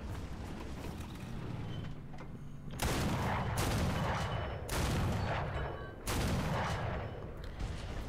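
ZUT-37 anti-aircraft gun in War Thunder firing single shots on the Mozdok map, four loud, heavy booms spaced about a second or two apart over a low engine rumble.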